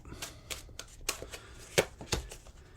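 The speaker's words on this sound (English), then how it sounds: "One more shuffle." Tarot cards are shuffled by hand in irregular bursts of crisp riffling and slapping, close and fairly quiet, with short pauses between the flurries.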